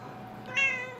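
A domestic cat gives a single short meow in the middle of the clip, fairly close over a steady indoor background hum, in a hotel room where a woman lives with her cats.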